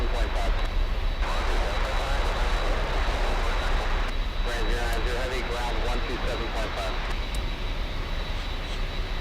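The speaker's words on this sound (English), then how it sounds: "747, takeoff in the south side. Excuse me, takeoff in the north side" An Atlas Air Boeing 747 departing Miami's north runway 8 Right, bound for Amsterdam, gives a steady, powerful engine roar that stays strong and close throughout, while voices talk over it.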